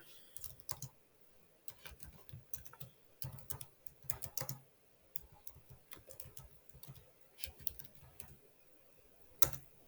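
A computer keyboard is typed on in quick bursts of key clicks with short pauses, close but quiet, as a web link is entered.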